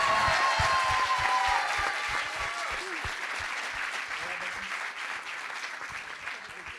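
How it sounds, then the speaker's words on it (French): Enthusiastic audience applause at a university thesis-presentation contest evening, a loud, sustained burst of clapping that stays strong and slowly eases over about seven seconds. "encore un tonnerre d'applaudissements pour sa prestation"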